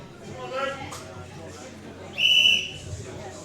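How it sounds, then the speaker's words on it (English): A referee's whistle blast starts a strongman event at a UK & Ireland under-80kg, under-90kg and junior men's competition, one loud sustained shrill tone, heard over crowd murmur and arena noise. "On the whistle."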